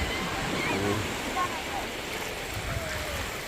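Sea waves wash onto the beach at Anmyeon on the Taean coast near Batgae beach, a steady broadband surf hiss with wind noise, with faint voices nearby.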